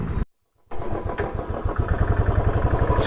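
Motorcycle engine running steadily while riding, a continuous mid-pitched drone with rhythmic pulsing, briefly cutting out near the start before returning loud and close.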